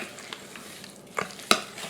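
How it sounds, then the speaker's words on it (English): Mixed berry jam ingredients with a pat of butter are stirred in a bowl, a soft scraping swirl punctuated by a few light clicks of the utensil against the bowl, close and quiet. "I'm going to mix all this up."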